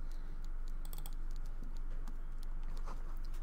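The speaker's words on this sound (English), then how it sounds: "Someone's typing away, I hear it." Keys clatter on a keyboard in the video game Disco Elysium, a steady stream of quiet, uneven taps against a low hum.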